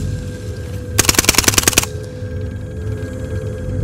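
Gunfire in a tactical shooter video game, a single rapid machine-gun burst of about a dozen sharp shots lasting under a second, with quiet background hum before and after.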